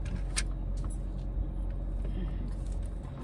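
A 2019 Dodge Caravan minivan backing up, a low engine idle and road rumble heard from inside the vehicle, with a few small clicks over it.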